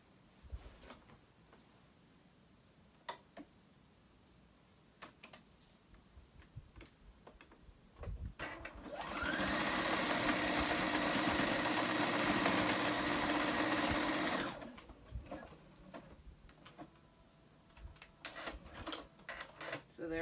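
A sewing machine runs a zigzag stitch across a skirt waistband in one steady, loud burst of about six seconds, with quieter handling clicks and bumps before and after.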